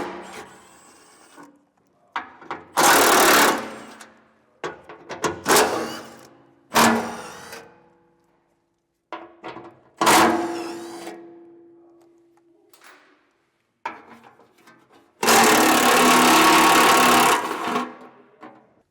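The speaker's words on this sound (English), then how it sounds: "We have 6 bolts that we need to remove with a 13mm socket." A power tool with a 13mm socket spinning out six heat shield bolts under a 2020 GM truck, short whirring bursts separated by pauses and clicks, with one long run near the end.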